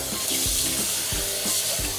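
Tap water splashes and spatters over a squid being rinsed under the faucet, a close, continuous hiss with small wet bursts.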